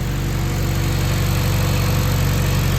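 Honda Civic Si engine idling with its supercharger removed, a loud, close, steady mechanical drone with a fast, even pulsing throb throughout.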